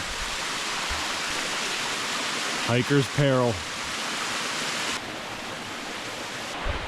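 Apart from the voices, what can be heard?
small waterfall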